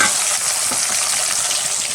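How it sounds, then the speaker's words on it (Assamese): Bhangan fish frying in oil in a wok gives a steady, loud, close sizzle with fine crackling that holds evenly throughout, with no voices. "মই ভাঙন মাছ দুটা আনিছিলোঁ, তাকে মই ভাজি লৈছোঁ।"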